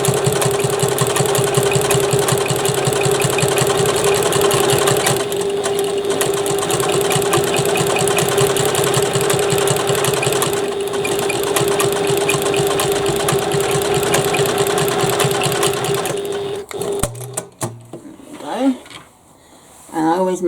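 A Janome sewing machine stitches a bag seam in a steady, rapid mechanical whir. It runs continuously for most of the stretch, close up, then slows and stops near the end, leaving brief handling sounds.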